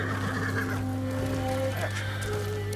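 In the video game Ghost of Tsushima, a horse whinnies over a constant low hum and game ambience, the neigh wavering in pitch for a couple of seconds, with faint voices in the background.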